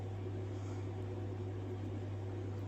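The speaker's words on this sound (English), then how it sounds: "I'm blending it in with my blender." A blender whirs steadily as a drink is blended, a constant motor drone with a strong low hum and broadband wash running unbroken and close throughout.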